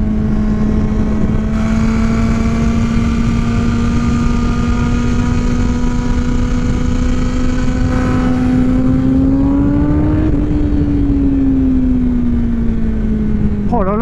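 A Kawasaki Ninja ZX10-R, a 200 hp sport bike, holds a loud, steady engine drone that climbs slightly in pitch and then drops back, continuous throughout with no gaps.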